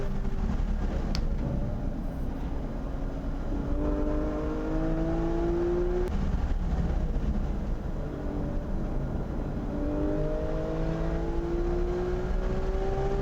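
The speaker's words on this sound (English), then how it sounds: "So sitting on board with this GT3 for a few corners here" GT3 race car heard onboard at Laguna Seca, a loud continuous engine drone that rises and falls through the gears as it works through corners, no talk.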